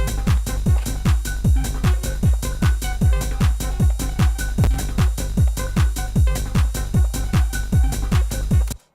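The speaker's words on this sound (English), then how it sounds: "Slap tape delay on that." Steady, driving rhythmic music with a slap tape delay effect, punchy repeating hits about four per second echoing tightly behind themselves, loud and continuous until an abrupt stop.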